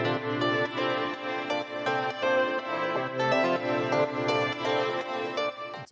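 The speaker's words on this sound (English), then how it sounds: "So I added this super VHS tape thingy, and that has like a little bit of drift to just make the pitch go up and down a little bit." A lush synth part treated with a VHS tape emulation that makes its pitch waver gently up and down plays alone for several seconds, sustained chords at an even level before fading at the end.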